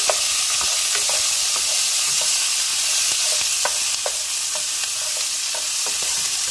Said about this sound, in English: And I am going to let this saute all day.